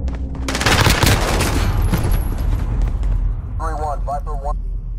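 Dense game gunfire rattles loudly and almost continuously in a chaotic battle, with a radio-style voice chattering briefly near the end.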